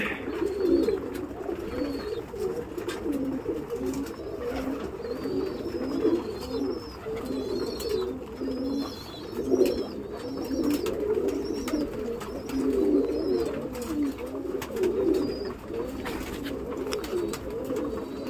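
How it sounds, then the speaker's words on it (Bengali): Many young pigeons feeding on a rooftop coo continuously in a low, throaty chorus, with small chirps and rustling throughout and no talking. "দেখতে পাচ্ছেন বাচ্চা পায়রা খাওয়া শুরু করে দিয়েছে"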